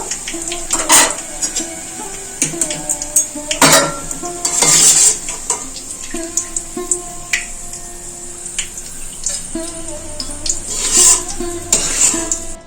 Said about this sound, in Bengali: পোলাওর জন্য পেঁয়াজগুলো খুব লাল লাল করে ভাজা হয়ে গেছে